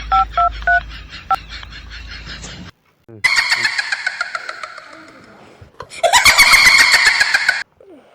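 A quick series of telephone keypad dialing tones beeps out at the start. Louder, harsher electronic sounds follow in two long bursts.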